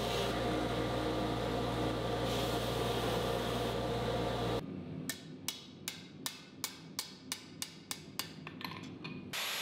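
A steel habaki is hammered onto the tang of a Damascus katana: about a dozen sharp metallic strikes in a steady rhythm, preceded by a few seconds of loud machine hum.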